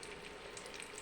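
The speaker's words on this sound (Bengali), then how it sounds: "কিছু কিশমিশও ভেজে নেব।" Raisins frying in a pan, a steady close hiss and crackle of oil sizzling throughout, with no voices.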